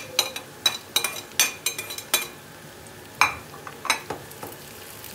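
Onions and red kapya peppers frying in oil alongside potatoes for a Spanish tortilla, a steady close sizzle broken by repeated sharp scraping stirs and light utensil clinks against the pan, with no talking.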